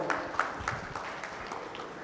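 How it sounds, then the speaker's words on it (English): Audience applause at a corporate Dell innovation event, a steady, dense wash of many hands clapping throughout, moderately distant and sustained without pause. "So again, a huge round of applause"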